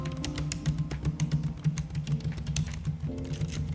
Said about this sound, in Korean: 손 이렇게 딱 올리고 타이핑하면은